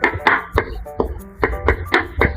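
Knife chopping vegetables, including onions, on a board in a home kitchen, a steady series of close, sharp thuds with brief pauses.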